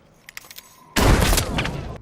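A single loud, close gunshot bursts in after a quiet moment, followed by a short ringing, noisy tail.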